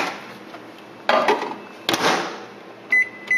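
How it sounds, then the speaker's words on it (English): Microwave oven being loaded and set, with a couple of clunks of the door and handling, then a short electronic beep near the end, all close and without talk. "And you place it in your microwave"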